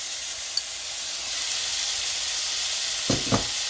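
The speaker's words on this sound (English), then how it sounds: "So just throw in all of the tomatoes." Tomatoes for pav bhaji hit a hot pan with a steady, close sizzle that continues throughout, with a couple of brief louder bursts near the end.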